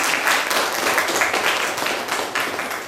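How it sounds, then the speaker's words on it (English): Audience applause fills a business-conference hall during a women's leadership and entrepreneurship event, dense steady clapping from many hands sustained throughout without talk. "She requires a bigger round of applause from all of us."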